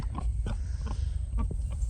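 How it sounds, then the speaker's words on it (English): A large stud boar on a farm grunting repeatedly in short low snorts, close and loud, over a steady rumble of background noise. "Oh, and Bruce, big stud daddy pig."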